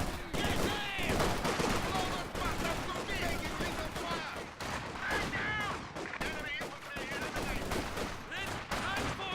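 Infantry gunfire in Company of Heroes 2, a steady crackle of rifle and machine-gun shots in a dense wartime battle mix with background music, fairly quiet overall.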